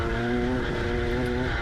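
A Dmax kart at Daytona Tamworth locks its rear wheels under braking, producing a sustained tire squeal and skid over the high engine drone, loud and close for the whole moment.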